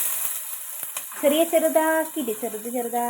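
Finely chopped onions drop into a butter-rich masala base and hiss in the pan. A bright, steady sizzle runs beneath a voice speaking through the second half.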